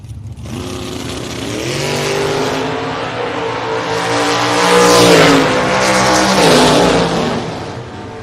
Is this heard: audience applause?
no